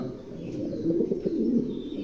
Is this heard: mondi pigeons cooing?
yes